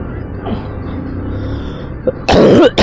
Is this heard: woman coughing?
yes